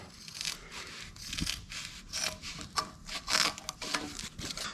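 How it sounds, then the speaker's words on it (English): Scissors trimming off excess material in a series of close, crisp snips and rubbing cuts at an irregular rhythm, with no talking. "Trim the rest off with the scissors."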